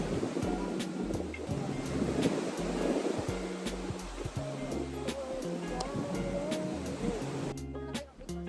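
Steady roaring wind rushing and buffeting on a rainy day in Boracay, loud and close throughout, with a low rumbling undertone and no clear talk.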